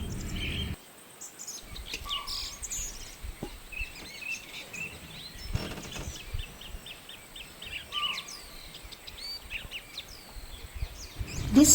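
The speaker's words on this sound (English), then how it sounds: "The next morning jungle was serene with bird sounds" Many birds chirp and call at once in a lively jungle chorus, high twittering notes layered over a soft insect hum, continuous throughout.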